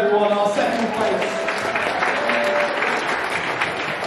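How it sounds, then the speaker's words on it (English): Audience applause and cheering fill a robot combat event for a Beetle-weight tournament, steady and fairly loud throughout, with an announcer's voice over the crowd. "Massive round of applause for Ion, everyone, our second place"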